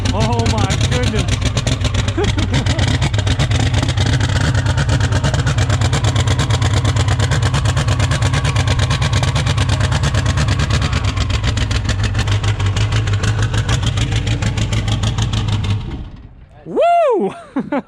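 A Duramax diesel truck engine fitted with an S472 turbo, running grumpily on a freezing night, rumbles loudly and steadily for about sixteen seconds before cutting off, with a brief rising whine at the end.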